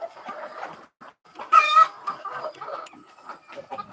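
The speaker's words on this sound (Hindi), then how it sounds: "सब मुर्गियाँ दाना एक आपस में खा रही है, आप लोग देख सकते हैं।" Desi chickens on a poultry farm cluck in short, close bursts while pecking at grain together, with one louder squawk rising among the soft, scattered calls.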